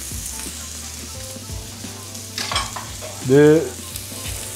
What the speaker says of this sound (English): I'm gonna add in some vegetable oil here to our cast iron pan. Let these onions start singing.